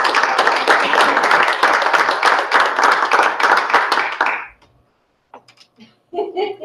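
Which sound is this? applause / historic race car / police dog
applause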